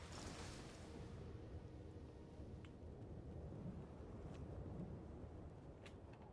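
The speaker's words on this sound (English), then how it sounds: "I do hear the thunderstorm" Thunderstorm in the video game Aloft, a steady low rumbling roar of rain and distant thunder filling the whole stretch, with a few faint crackles on top and no talking.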